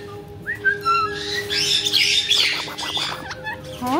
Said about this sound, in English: Where's Spiky Bird going?